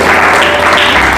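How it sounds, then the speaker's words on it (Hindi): A church congregation applauds together, a dense, steady burst of clapping that fills the space at full loudness for its whole length, with no voices over it. "ताली बजाकर प्रभु को महिमा दें"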